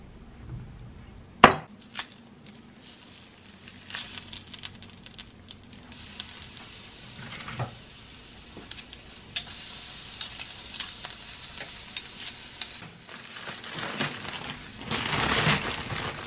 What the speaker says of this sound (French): je vais couper des petits carrés de pain de mie que je vais faire grilloter